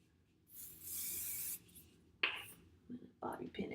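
An aerosol can sprays hair during a styling routine, one steady hiss lasting about a second, close and fairly quiet, followed by faint rustling and handling sounds.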